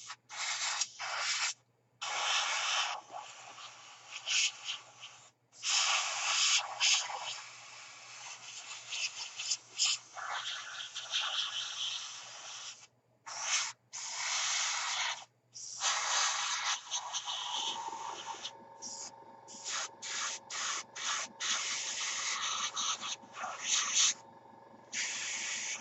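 Airbrush or spray paint hissing onto the instrument panel of a model RAF Harrier GR7 aircraft, repeated steady bursts of close hiss broken by brief pauses, with a low hum underneath.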